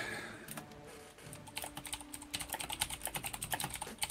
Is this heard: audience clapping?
no